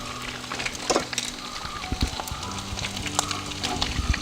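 Chicken pieces deep frying in hot oil, with a bubbling crackle and repeated clanks and scrapes of a utensil lifting pieces out of the pan, fairly close and busy throughout.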